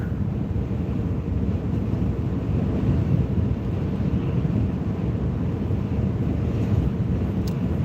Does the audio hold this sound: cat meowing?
no